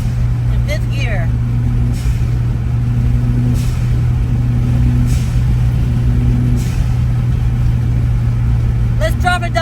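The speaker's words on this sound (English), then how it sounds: "she's building about 14 pounds of boost in 5th gear" Toyota Celica GT-Four turbo engine droning steadily in 5th gear while building boost, a constant loud in-cabin hum with faint periodic whistles, heard under someone talking.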